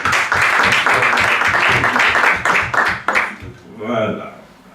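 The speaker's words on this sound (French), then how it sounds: "on peut l'applaudir quand même." Applause from an audience at a Belgian entrepreneurs' feedback session, brisk clapping for a few seconds that thins out, while a voice talks over and after it.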